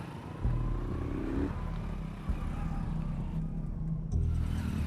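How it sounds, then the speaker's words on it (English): A motorcycle climbs rough mountain roads, its engine droning steadily and close with shifts in pitch as it labors and revs, plus rattling clatter over the bumpy surface. "So we've been on a motorcycle now for over an hour on really tough roads, just climbing up."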